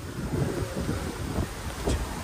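Wind blowing outdoors during a mountain motorbike ride toward Upper Mustang, a steady broadband rush with low buffeting on the microphone and no talk.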